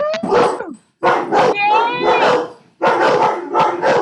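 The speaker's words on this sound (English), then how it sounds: "Oh, the dogs are excited" Several excited dogs bark and yip close by in rapid overlapping bursts with a brief whine, while people talk underneath.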